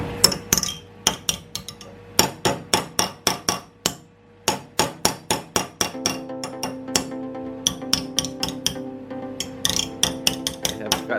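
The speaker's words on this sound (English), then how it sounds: "So now I'm trying to beat this flange inside." A hammer strikes a steel body flange on a Suzuki SJ410 during rust repair, with sharp metallic blows coming in quick, uneven bursts and brief pauses between them, close and alone without talk.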